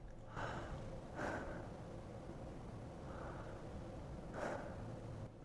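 Quiet breathing through the nose and mouth together, as in running practice, with several soft, airy breaths rising and fading at uneven intervals over faint background hiss.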